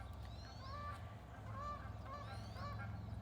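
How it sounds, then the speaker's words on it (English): Several Canada geese honk repeatedly in overlapping calls, moderately distant, over a low steady background rumble, in the morning at Deception Pass State Park. "I hear Canada geese."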